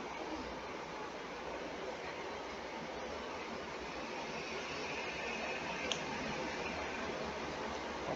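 A train rolls past on rails right beside a building: a steady, dense rumble and roar that fills the whole span at constant loudness, with one brief metallic click near the end.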